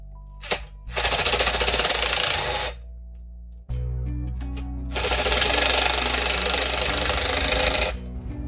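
A power drill drives a bolt while mounting a mirror on a bus, whirring in two long bursts separated by a short pause, loud and close, with a brief rattling buzz at the start.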